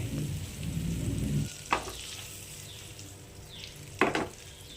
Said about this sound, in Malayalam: ഒരു പാനിലേക്ക് ഒരു മൂന്നോ നാലോ ടേബിൾ സ്പൂൺ ബട്ടർ ഇട്ട് കൊടുക്കാം ബട്ടർ ഒന്ന് മെൽറ്റായി വരട്ടെ